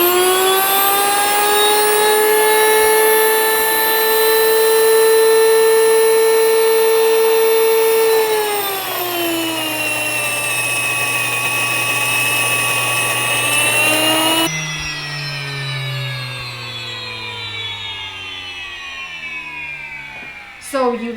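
An electric grain mill grinds sorghum on a coarse setting, a loud steady whining motor drone whose pitch drops partway through as the grain feeds in, then shifts again near the end, running continuously without pause.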